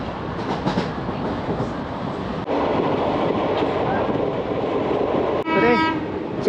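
Simhadri Express train running between Samarlakota and Nidadavolu, a loud, steady rolling rumble from on board that swells midway, with a horn blast near the end.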